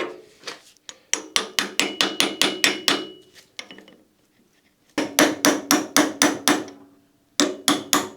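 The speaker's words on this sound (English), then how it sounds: "It's bent right there to lock it, so hopefully I can hammer that back out." Repeated sharp hammer strikes on bent metal on a Citroën AZU during kingpin removal, in quick rhythmic bursts: a run of blows, a pause with light tapping, then another fast series.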